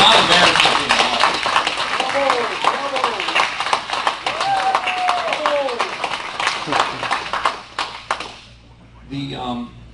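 A crowd claps at a Libertarian gathering: loud, rapid clapping with voices talking and calling over it, fading out abruptly near the end before a brief voice.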